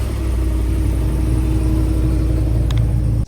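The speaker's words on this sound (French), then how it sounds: "On va se faire un petit cold start." A pickup truck engine cold-starts in a small desert town in the American Southwest, settling into a loud, deep rumbling idle that runs steadily and then cuts off abruptly at the end.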